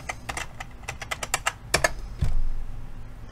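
Fast, crisp keystrokes on a computer keyboard, a run of close, evenly spaced taps that ends with a louder clack and a soft thump.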